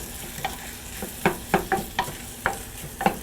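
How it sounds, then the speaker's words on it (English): Chopped onions going into melted butter over medium heat, with a steady soft sizzle broken by several sharp scraping stirs and clatters spaced through it, close by and with no talking. "So in goes the onions, chopped onion."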